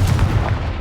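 A Confringo explosive spell going off in Hogwarts Legacy, heard as a short burst of loud, booming low-end blasts with a crackling, gunfire-like texture, no voices over it.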